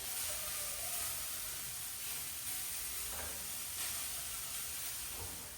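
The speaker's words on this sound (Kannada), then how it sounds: "ಇದು ಚೆನ್ನಾಗಿ ಫ್ರೈ ಆದ ನಂತರ ಅದಕ್ಕೆ ಸ್ವಲ್ಪ ಲಿಂಬೆ ರಸ ಹಾಕ್ತಾ ಇದ್ದೇನೆ." Lemon juice hitting a hot frying pan of fried vegetables for a colourful rice dish hisses and sizzles steadily, a close, continuous frying crackle with light stirring and no talk.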